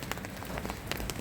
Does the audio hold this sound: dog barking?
no